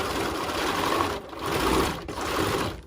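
Close, steady whirring of a sewing machine stitching up the side of a pleated fabric mask. Two brief pauses break the run before it resumes.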